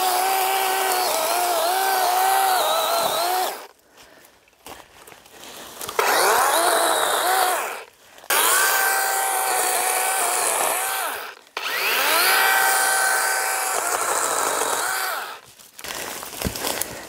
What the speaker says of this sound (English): Let me get the chainsaw.